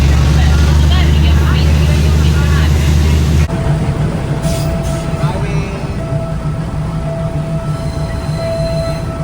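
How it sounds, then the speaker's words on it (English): A train arriving at a station in Singapore rumbles loudly and steadily nearby, wheels squealing with a thin sustained whine as it rolls along, a heavier roar easing off partway through. "we're waiting for the train right now"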